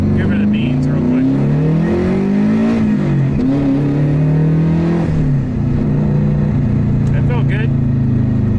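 Subaru GC8 with a WRX engine swap accelerating hard on the street, engine note climbing loud and close from inside the car, with people talking over it.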